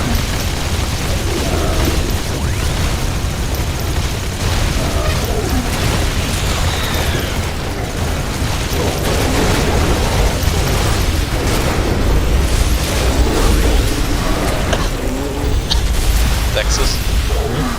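Buildings explode in The Riftbreaker base-defence game: repeated rumbling booms and crackling bursts run through a dense, steady wash of battle noise, with people talking over it throughout.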